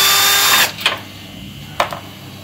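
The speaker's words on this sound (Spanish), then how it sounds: "Ahora vamos a sacar los tornillos que sujetan a la llave de servicio de succión" A power drill whirs at close range as it removes screws from an air conditioner's suction service valve, runs steadily for about half a second and then stops, followed by two short clicks of tool contact.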